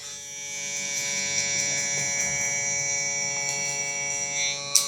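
Electric hair clippers buzz steadily, cutting a taper fade up close with a sustained tonal hum, and a brief bump near the end.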